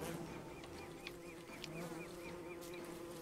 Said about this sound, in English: Because they're bees. Because they are, in fact, bees.